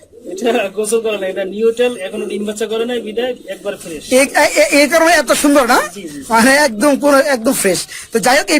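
King pigeons on a pigeon farm coo nearby in a steady chorus of soft, throaty warbling calls, with someone talking over them.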